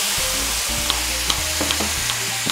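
Sizzling and frying as a hot pan is deglazed with Belgian tripel beer, with a stirring scrape, steady and close, without any talking.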